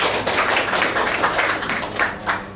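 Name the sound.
audience applause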